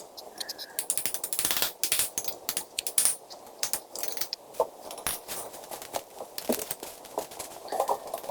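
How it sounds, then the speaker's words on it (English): A wrench working bolts on a bike's bottom valve cover: repeated metallic ratcheting clicks and clinks in irregular bursts, close and moderately loud, with faint speech at times. "I'm trying it with a normal wrench"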